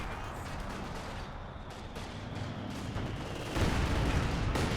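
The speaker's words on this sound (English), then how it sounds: "Heavy mortars hitting that area." Heavy mortar barrage in Company of Heroes 2 during a 4v4 battle, a continuous rumble of distant impacts and crackling fire that grows louder and denser toward the end.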